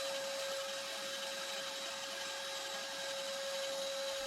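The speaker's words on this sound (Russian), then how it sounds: "Далее вырезаем новое днище на ленточной пиле или с помощью электрического лобзика." A band saw or electric jigsaw cutting a new oak barrel head from old staves, heard as a continuous, even machine whine with a steady pitched hum and no pauses.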